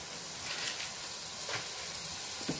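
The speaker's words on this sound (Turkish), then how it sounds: "Tencerem ısındı. Şöyle küçük bir parça tereyağı attım." Quiet, steady sizzling of a small piece of butter melting in a hot pot, a soft continuous crackle with occasional small pops.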